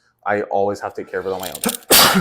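A sudden sharp sneeze bursts out at the end, loud and close, right after a stretch of conversational speech in a casual gym-culture podcast setting.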